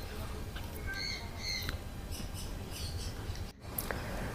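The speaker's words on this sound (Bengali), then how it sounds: "এই যে আমার গ্রে প্যারটটি" A tame grey parrot gives short, faint squawks and chirps indoors, a few brief high calls scattered over a constant background hiss.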